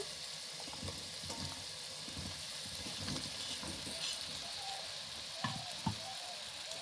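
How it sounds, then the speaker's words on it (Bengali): Chela dried fish curry with cauliflower, cauliflower leaf stalks and pumpkin sizzles and fries softly in a pan while being stirred, with a few scraping clicks of the spoon against the pan over a steady hiss. "ফুলকপি পাতার ডাঁটা এখন আমি খুব সুন্দরভাবে নেড়ে ছেড়ে দেব"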